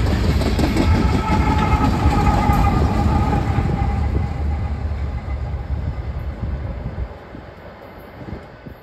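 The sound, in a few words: southbound coal freight train approaching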